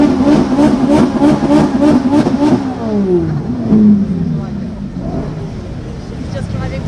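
A Ferrari or Lamborghini sports car revs in quick, loud pulses, then its engine note sweeps and fades as it drives past, with voices talking over it.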